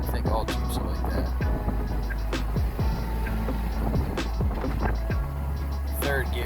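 A Jeep with 488 gears and 35-inch tires pulls away in first gear, its engine and road roar holding steady and loud, with many rapid clicks and rattles scattered over the drone.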